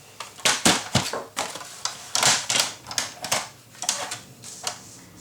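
Paper is cut for a nautical-themed mini album, producing a quick run of crisp, rhythmic snipping and rustling strokes, close and fairly quiet, with no voices.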